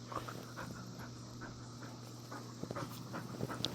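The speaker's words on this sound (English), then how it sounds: "that's a farm dog" Farm dog panting quickly and rhythmically close by, soft and steady breaths over a low background hum, with a faint whimper-like squeak near the end.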